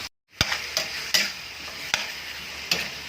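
Chicken tinola being stirred in a pot, a utensil scraping and knocking against the metal about five times at an even pace, close up over a soft steady simmering hiss.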